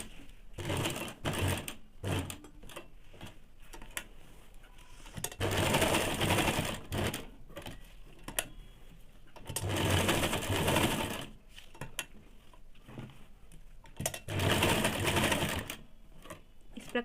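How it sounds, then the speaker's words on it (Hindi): A sewing machine stitches a semi salwar in several bursts of rapid, steady running, each a few seconds long, separated by pauses filled with quieter clicks and handling of the fabric. "फिर इस प्रकार से पूरे में एक सिलाई डाल देंगे।"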